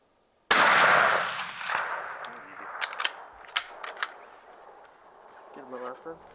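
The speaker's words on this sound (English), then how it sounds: "waited for the perfect broadside shot and squeezed the trigger" A hunting rifle fires a single loud shot at a mule deer buck about 340 yards away on a Wyoming hunt, its sharp crack trailing into a long outdoor decay, with scattered clicks and a brief voice following.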